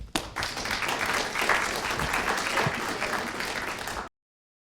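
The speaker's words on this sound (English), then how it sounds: "Let's give her a round of applause." A university audience at a student government candidate forum applauds, a full, dense roar of clapping that swells quickly and sustains evenly for about four seconds before cutting off abruptly.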